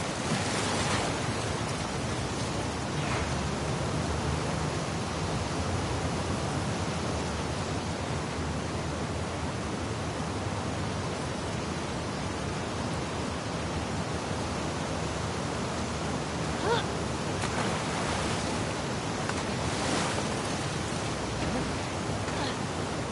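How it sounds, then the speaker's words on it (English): Ocean waves surge and wash continuously around a swimmer in the video game The Last of Us Part 2, a steady broad roar of surf with a few louder swells, no voices. "it remained in essence in the section swimming to the aquarium as Ellie when you were avoiding the waves"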